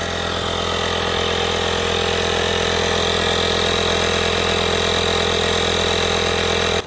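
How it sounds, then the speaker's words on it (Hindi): A Michelin portable tyre inflator, model 12266, runs continuously with a steady motor hum and rattling vibration, loud and close, cutting off at the very end. "अब इस इन्फ्लेटर का भी नॉइज़ टेस्ट कर लेते हैं।"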